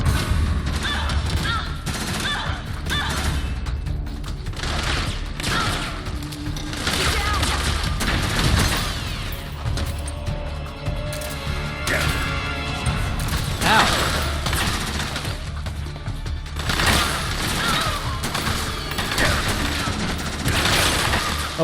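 Metal Gear Solid 4 gameplay gunfire: dense, repeated shots and booms with mechanical clatter, loud and continuous across the stretch, with a voice speaking intermittently over the action.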